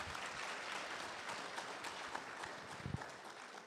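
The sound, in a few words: audience applause at an engagement ceremony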